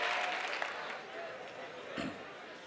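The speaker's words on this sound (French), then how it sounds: "De Côté, sous vos applaudissements." A comedy show audience applauds as the comedian De Côté from Abidjan takes the stage, a steady, fairly loud round of clapping that fades slightly, with a voice briefly heard over it.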